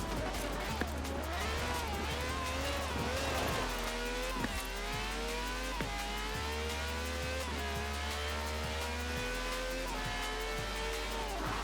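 A car in the racing game Forza Horizon 4 holds a droning engine note through gear shifts, with tire squeal and skidding bursts as it slides around corners.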